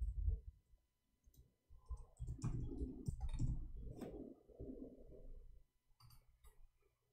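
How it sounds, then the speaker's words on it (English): A computer keyboard being typed on in quick irregular bursts of clicking, fairly close but soft, with brief pauses between runs of keystrokes. "Oh, I'm typing in Arabic."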